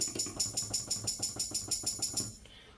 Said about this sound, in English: So we're gonna add the tambourine for this one.